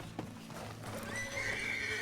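Horse in Red Dead Redemption 2 (RedM) giving a drawn-out whinny with clip-clopping hooves, fairly quiet and in the background.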